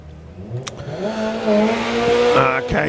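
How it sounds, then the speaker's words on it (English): A race car launches hard off the line at a drag strip on race tyres, its clutch screaming and engine note rising steadily and loudly over three seconds, heard close with a brief sharp click near the start. "he's just launching the car, 175. You can hear the clutch screaming there in the 60 foot now"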